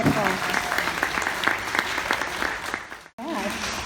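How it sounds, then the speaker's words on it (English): A school staff gathering applauds for a departing teacher, dense clapping with a voice speaking over it, then a sudden cut near the end before talk resumes. "a round of applause"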